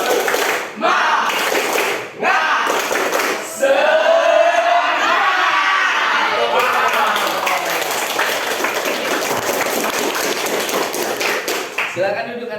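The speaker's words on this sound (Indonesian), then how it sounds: "Kalian sudah melakukan tepuk semangat" Classroom of schoolchildren doing a rhythmic 'tepuk semangat' spirit clap, bursts of clapping and chanted voices filling the room, loud and close, with a teacher's voice and children shouting between claps.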